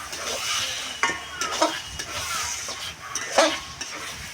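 A hilsa fish head and water lily curry is stirred in a pan, with soft sizzling under repeated scraping and clinking strokes of a spoon, close and irregular.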